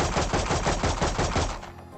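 Rapid gunfire from the tactical shooter game Valorant rings out in a fast, loud rhythmic burst of shots that stops abruptly just before the end.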